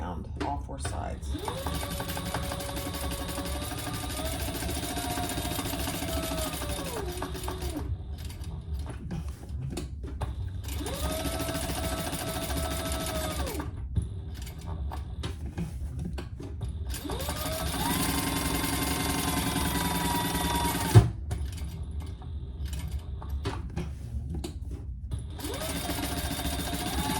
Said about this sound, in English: let's stitch these all the way around, all four sides.